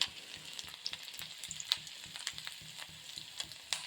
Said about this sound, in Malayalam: കടുക് പൊട്ടുമ്പോൾ നമുക്ക് കുറച്ച് കറിവേപ്പില, അത് 2 ഇഞ്ചി ഇട്ട് കൊടുക്കുന്നുണ്ട്